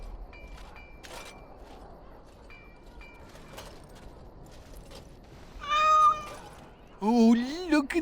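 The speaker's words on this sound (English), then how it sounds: "Oh, look at the cute little kitty." In Dragon Age: Origins - Awakening, a cat gives two clear, fairly loud meows in a quiet game scene, the second longer and wavering, after a stretch of faint background sound and soft footsteps.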